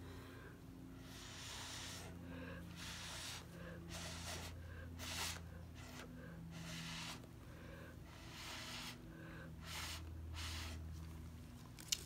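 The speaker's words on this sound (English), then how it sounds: "Now it seems like I'm blowing through it really hard" Breath blown through a straw onto an acrylic paint pour, producing repeated soft, breathy puffs and hisses at a close, quiet level, with a steady low hum running underneath.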